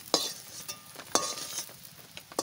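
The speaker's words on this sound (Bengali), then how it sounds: "শুধু লবণ দিয়ে আমি ভেজে নিচ্ছি" Soybean chunks frying with salt in a pan, heard as a few sharp scraping stirs of a utensil over a faint sizzle, close and without talk.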